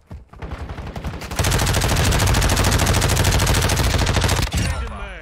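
Lachmann Sub (MP5) submachine gun in Modern Warfare 2 fires one long, loud, continuous burst of rapid shots, with brief game sounds and callouts before and after.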